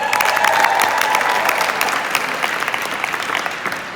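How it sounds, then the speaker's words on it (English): An audience at a math education event applauds a speaker being introduced, with dense, even clapping that fills the room and tapers slightly near the end. "Her name's Rachel Lambert, so give her applause"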